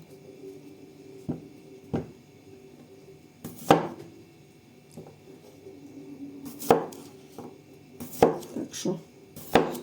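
Potatoes being sliced with a knife on a cutting board for roasted potatoes with meat, giving sharp irregular chopping knocks, some in quick clusters, close up with no talking.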